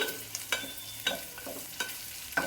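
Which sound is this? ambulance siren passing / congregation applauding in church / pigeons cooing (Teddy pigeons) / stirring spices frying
stirring spices frying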